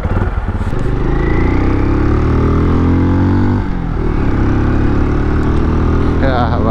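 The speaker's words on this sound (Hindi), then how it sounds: "एग्जॉस्ट नोट बहुत बढ़िया लगा मेरे को" Benelli Imperiale motorcycle with a bass-heavy exhaust revving up and holding a loud, steady drone close by, with a second rise and a brief voice near the end.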